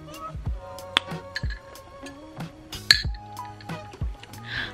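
Drinking glasses clink several times in irregular, sharp, bright taps, close by, with some faint background activity and no clear talking.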